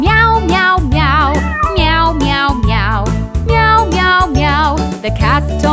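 A voice repeatedly imitates a cat's meow in drawn-out, wavering calls over bouncy music.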